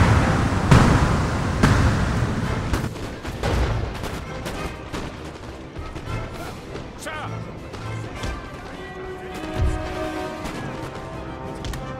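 Booming cannon shots ring out one after another in the video game Napoleon: Total War, some close and heavy, others distant, amid crackling battle noise and occasional talk.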